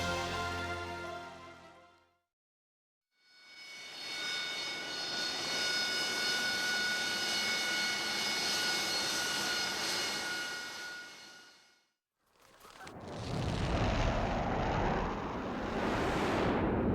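A Harrier jet roars past in a film sequence, with a loud, sustained engine whine holding steady for several seconds, then cutting off and returning as a harsher, deeper rumbling blast.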